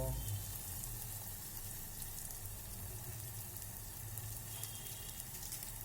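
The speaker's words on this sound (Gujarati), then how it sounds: "આપણે તેને બે મિનિટ ધીમા તાપથી સડવા દઈશું" Onions, chillies and garlic frying gently in oil over low heat for a stuffed tumdi dish, a steady close sizzle with faint stirring throughout and no clear talk.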